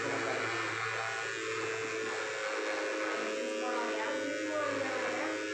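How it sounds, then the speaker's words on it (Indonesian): A wasp buzzing close by, a steady droning hum that holds unbroken through the whole stretch at moderate loudness. "Suara tawon ya."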